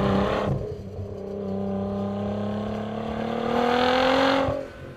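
A tuned 1000 HP Nissan GT-R engine roars steadily as it accelerates, its pitch climbing smoothly through the gears, loud and close with a raspy exhaust note.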